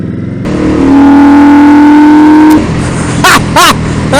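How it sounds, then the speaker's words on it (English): Intake roar from the throttle body of an Indian Scout Bobber motorcycle, heard up close and loud: a sustained, heavily harmonic drone gives way to several sharp throttle blips. "when that starts sucking air like that, it's loud even for me"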